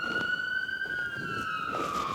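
An ambulance siren sounds close and loud, one sustained wailing tone that slowly rises and then dips over a couple of seconds above a low rumble of traffic.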